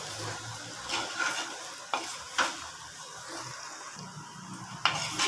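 Brinjal sautéing in a clay pot over low heat, with a steady sizzle and a few sharp scrapes of stirring breaking through at intervals, close and moderately loud.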